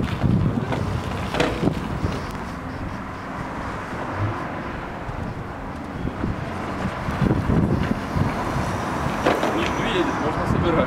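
Steady wind roars across the microphone while riding a homemade dual-suspension electric scooter built on hoverboard wheels through a garage complex, a continuous loud rushing with low rumble and occasional bumps and no pause throughout.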